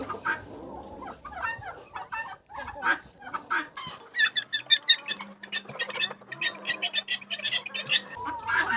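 Domestic turkey hens calling in a village farmyard, a run of close clucks and sharp chirping notes, dense and uneven, with a low steady hum underneath partway through.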